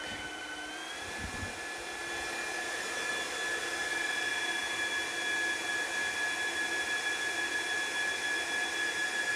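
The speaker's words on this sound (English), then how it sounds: "We're getting a bit of fan noise now, there we go. As obviously processor gets to work." Cooling fans of an HPE DL120 Gen9 rack server under processor load spin up to a steady, loud whooshing roar with a high whine, rising in the first seconds then holding constant, close and without speech.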